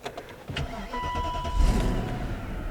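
A BMW car engine cranks and starts after its oil has been drained, the starter churn giving way to a steady running drone that stays loud and close to the end.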